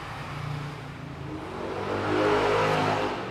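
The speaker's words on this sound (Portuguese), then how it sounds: "O carro está funcionando." Fiat Palio Fire engine running close by, idling low then rising in a revving surge that peaks past the midpoint before easing slightly, with no talk over it.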